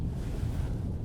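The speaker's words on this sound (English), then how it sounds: "It's just going to show that the car can go through water." A car wades through a water crossing on a hard-packed bed, pushing a bow wave, with a loud, steady rush of churning water and wind-like roar close by.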